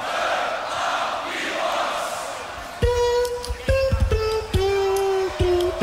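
A live beatbox battle crowd at the 2021 World League semi-final roars in response to the host, then a punchy beatboxed bass pattern with sharp hits kicks in over the noise.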